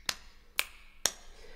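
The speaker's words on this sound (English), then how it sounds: "So finger snap, right," Finger snap sample triggered on an iPad music app, three sharp, bright snaps at an even pace, clean and close with no talk.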